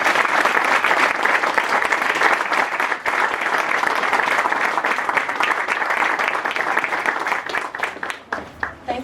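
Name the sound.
audience applause after a speech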